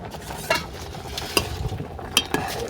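Rice and jaggery payesh with bottle gourd being stirred in a clay pot over a wood fire, three or four sharp scraping strokes above a low simmering bubble, close and with no voices.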